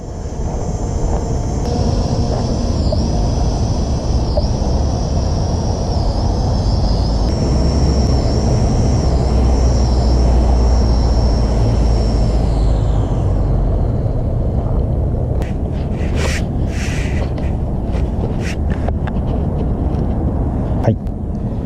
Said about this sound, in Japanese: 私の新しいトイドローン、おもちゃのドローンですね。